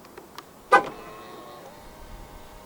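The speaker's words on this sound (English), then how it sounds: "To lock the car, press the button on the driver's side door handle." A 2025 Jetour Dashing 1.5 Turbo locks from the keyless button on the driver's door handle, giving one sharp, close click-chirp that rings briefly and fades into quiet outdoor background.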